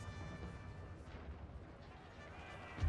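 Artillery fire rumbles through a Napoleonic-era battle in the Napoleon Total War strategy game, with a steady low roar of distant cannon and musketry and a heavier boom at the very end.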